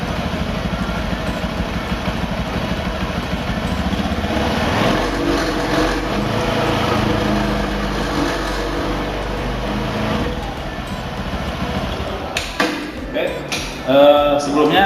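A motorcycle's CVT engine is throttled gently and slowly, giving a steady close idle-like drone with a few sharp mechanical clicks near the end.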